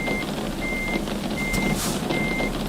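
Reversing alarm of a truck in Euro Truck Simulator, a steady series of four evenly spaced beeps over a loud continuous engine drone.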